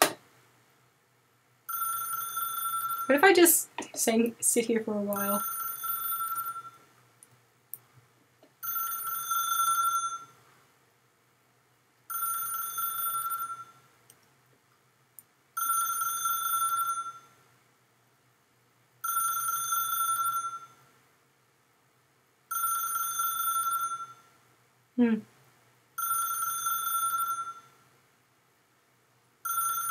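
A telephone rings over and over in the video game The Stanley Parable, with about nine evenly spaced electronic ring bursts separated by short silences. Someone speaks briefly near the start.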